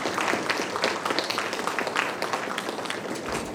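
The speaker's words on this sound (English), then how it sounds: "give them a round of applause" An audience claps for students at a Gurudev Jayanthi celebration, a steady, dense patter of many hands filling the room at an even level throughout.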